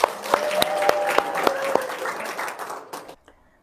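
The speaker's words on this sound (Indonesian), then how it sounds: "Tepuk tangan dong." An indoor audience at a religious lecture gives a short burst of scattered, moderately loud clapping that fades out after about three seconds, with a faint tone sustained beneath it.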